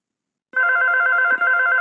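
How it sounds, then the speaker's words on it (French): A telephone rings loudly and close after a moment of silence, a continuous bright electronic trill with one brief break in the middle. "Sois gentille, ma chérie, réponds au téléphone."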